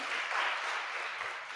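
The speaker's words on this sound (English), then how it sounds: "Let's give table two a round of applause." A roomful of people applaud table two at a live-streamed discussion event, a brief dense patter of clapping at moderate distance.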